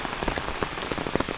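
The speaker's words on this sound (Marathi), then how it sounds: "आता पण भरपूरच पाऊस पडतोय" Heavy monsoon rain in a village pours down onto surfaces nearby as a dense, loud, continuous patter with no voices.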